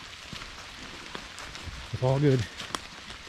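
Rain falls on a wooded hiking trail at the Milford Millponds Nature Preserve as a faint, steady hiss and patter throughout, briefly interrupted by someone speaking close by.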